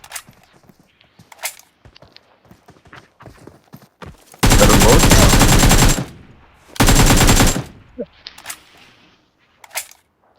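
AK rifle fired in PUBG Mobile, two long sustained bursts of rapid automatic gunfire, loud and close, with brief game sounds and players talking around them.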